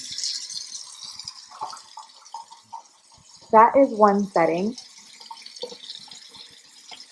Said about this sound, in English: so I'm going to turn it on here